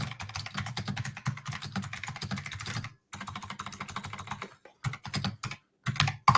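Rapid clattering keystrokes on a computer keyboard, close and fairly loud, typed in bursts with a few brief pauses between runs; no voices.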